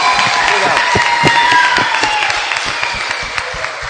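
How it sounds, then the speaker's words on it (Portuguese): A seated audience applauds to thank guests at an event, with steady clapping that holds for several seconds and then thins toward the end. "Então vamos dar uma salva de palmas agradecendo a participação deles"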